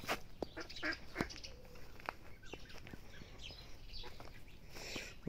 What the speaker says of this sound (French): Là il y a les petits oies frisées.